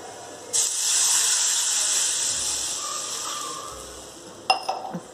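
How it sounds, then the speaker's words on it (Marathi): A sudden loud hiss as water hits a hot pan of mustard seeds, garlic and turmeric, sizzling steadily and slowly fading, followed by a few clinks of a utensil. "त्यामध्ये आपण पाणी टाकून घेऊयात।"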